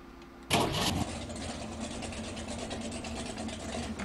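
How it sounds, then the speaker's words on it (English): A default-sounding engine cranks and catches in the Rigs of Rods driving game, a loud starter burst on the 2016 Blue Thunder monster truck at the start line, then settling into a steady mid-pitched idle. "Default engine noises, but that's not a big problem."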